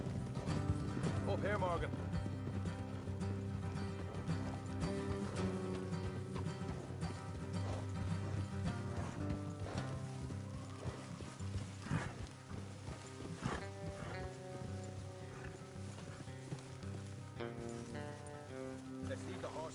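Horses walking in Red Dead Redemption 2, steady hoof clops carried beneath loud continuous game music, with a voice speaking briefly near the start.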